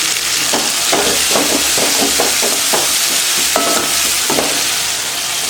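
Coriander and curry leaves stirred into a pan of chicken and green pea gravy: steady sizzling frying hiss with repeated scraping spoon strokes against the pan, loud and close, no talking.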